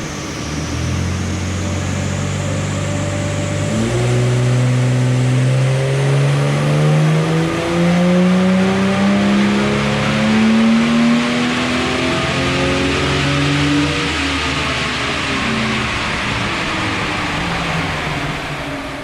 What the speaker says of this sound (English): we're ready to run our first baseline run before any tuning